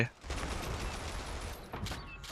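Rapid gunfire from the World War II mobile shooter World War Heroes, a sustained fusillade of overlapping shots with a sharper burst near the end and a voice talking faintly underneath.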